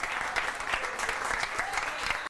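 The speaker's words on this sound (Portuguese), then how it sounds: "uma salva de palmas" A café audience at Café do Bexiga gives a round of applause for composer and poet Carlos Silva, producing dense, lively clapping with a few sharper individual claps that stops abruptly at the end.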